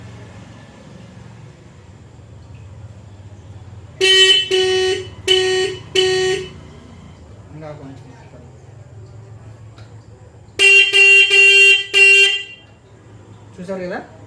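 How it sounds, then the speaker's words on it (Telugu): A motorbike horn sounding after adjustment blares close and loud in two groups of short repeated honks, separated by quieter stretches where someone speaks briefly. "హారన్ అనేది సౌండ్ పెరిగింది"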